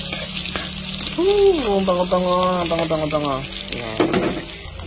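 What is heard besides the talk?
sautéing garlic and onion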